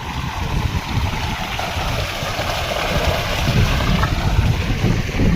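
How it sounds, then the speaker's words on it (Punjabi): An irrigation water pump motor runs while watering a sugarcane field, giving a steady broadband rush of churning water and motor noise, with wind buffeting the microphone and no talk. "ਇਧਰ ਮੋਟਰ ਚੱਲ ਪਈ ਜੀ ਗੰਨੇ ਨੂੰ"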